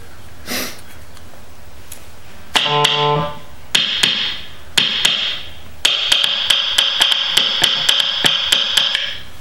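Sharp taps on a microphonic electric guitar pickup ring out as bright metallic pings, starting sparse and then coming in a quick, even run of clicks, close and loud.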